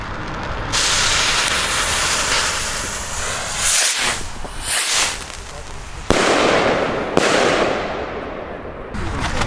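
A Moscow Mania fireworks cake goes off at New Year's Eve as a dense, continuous crackling roar with hissing, broken by brief lulls and sharp restarts, loud and close.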